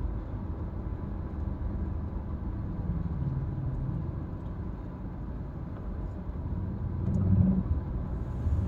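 Steady road traffic in slow, congested conditions on a route toward Naga, with a continuous low rumble of car engines and tyres, moderately close and fairly even, swelling briefly near the end.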